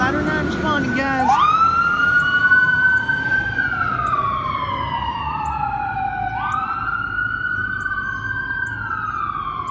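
Responding fire trucks pass with a loud wailing electronic siren that sweeps up and down, opening with a short burst of air horn blasts, with people talking nearby.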